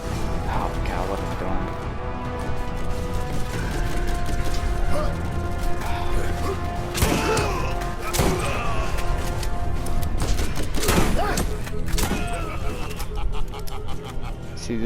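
Game gunfire and a quick weapon reload in Borderlands Remastered, with sharp shot transients and mechanical clicks set against a busy, constant bed of game music and effects.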